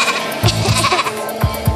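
Goats bleating in a garden, several short bleats coming one after another in a steady series, fairly close and loud with no talk over them.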